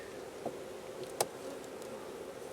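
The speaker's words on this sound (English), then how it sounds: "It sounds a bit like a trapped bee." A trapped honeybee on a beekeeping farm gives a faint, steady buzzing drone, broken by a couple of small clicks and knocks close by.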